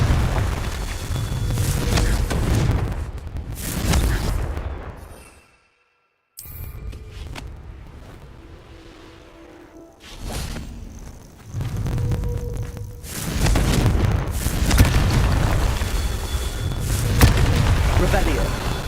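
Confringo fire-blast spells in the game Hogwarts Legacy, at a Merlin trial; heavy booming explosions come in several bursts, briefly cut by a silent gap, with a voice speaking between blasts.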